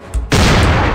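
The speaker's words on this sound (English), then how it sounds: "Now shoot you a couple more times," A loud, close gunshot blast from a Michael Myers Halloween horror video game, one sharp crack followed by a sustained booming roar.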